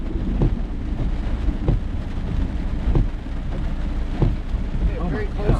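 A thunderstorm brings nearby lightning strikes hitting water and trees, heard as heavy rain with repeated low, rumbling thuds at irregular intervals, fairly loud and close throughout.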